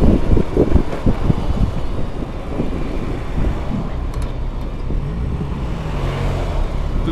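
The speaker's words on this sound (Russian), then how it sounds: "Ух, скутер-то прет вообще, я его 2 недели не заводил." Scooter engine while riding on the road, a continuous engine drone mixed with heavy wind buffeting on the microphone, steady and close throughout.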